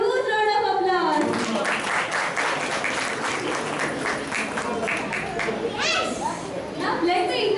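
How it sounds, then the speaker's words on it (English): Audience applause and clapping for a children's stage performance, a dense sustained burst across the whole stretch, loud and close, with children's voices and crowd chatter mixed underneath. "They deserve a huge round of applause."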